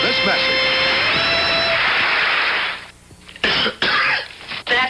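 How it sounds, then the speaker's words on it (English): A man's cough in a television comedy show from 1977, followed by short bursts of throat clearing over a steady broadband background. "That cough needs Formula 44."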